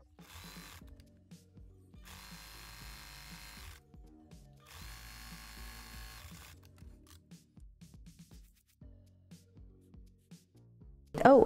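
A sewing machine runs in two steady bursts of stitching while hemming a skirt made from an old tracksuit, followed by softer mechanical clicks and handling noises, then a sharp knock at the very end.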